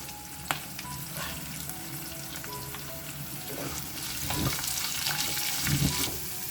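Onions and curry leaves sizzle and fry with potatoes in a pan, a steady close crackling hiss with occasional scraping stirs and a few clinks, no talking.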